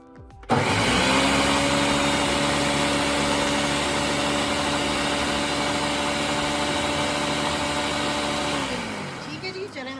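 A mixer grinder whirs loud and steady while blending gram flour batter with water. It starts abruptly, runs for several seconds and then winds down near the end.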